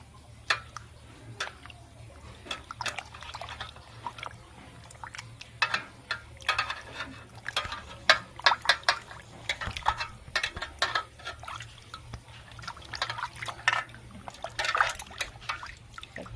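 Cauliflower pieces are washed by hand in a metal cooking pot of water, giving faint, scattered splashes, drips and trickles in an irregular rhythm over a low background hum.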